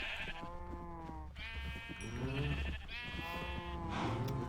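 Sheep bleating in a video game, several wavering, nasal bleats in quick succession, fairly close and clear over a low background hum, with no speech.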